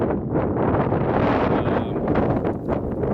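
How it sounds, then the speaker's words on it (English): Strong wind buffeting the microphone, a loud continuous rumbling roar with gusty swells and no voices. "Man, it's freaking windy out here."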